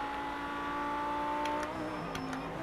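Race car engine in the video game Project Cars 2, played on PlayStation 5 in a truck event, revving steadily and accelerating out of a corner, with a brief gear-change dip and rising pitch, continuous and fairly loud.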